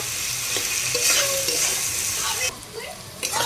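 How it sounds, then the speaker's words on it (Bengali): Jaggery is stirred constantly into amla (Indian gooseberry) pickle in a pan over a very low flame, giving a continuous sizzle with repeated scraping strokes that briefly quieten before resuming. "এইভাবে গুড়টা দিয়ে অনবরত নাড়তে থাকবো।"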